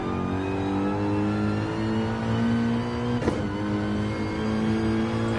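A Mercedes AMG GT3 race car in a racing game holds a steady, droning engine note with layered harmonics, and a short sharp burst cuts in partway through.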